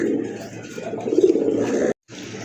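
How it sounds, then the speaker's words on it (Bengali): Pigeons coo nearby in soft, rolling low calls against a quiet background, breaking off briefly near the end before resuming faintly. "খুবই ভালো মানের এক জোড়া কবুতর"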